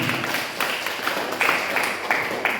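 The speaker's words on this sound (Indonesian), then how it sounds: "Tepuk tangan yang meriah bagi Tuhan." A church congregation claps together during a service, steady close clapping with a few louder accents, fairly soft overall.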